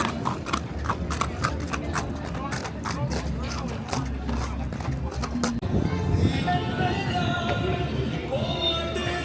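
Several horses clip-clop along a street at a public event in Cartago, Costa Rica, a quick run of close hoof strikes that thins out midway into general crowd noise.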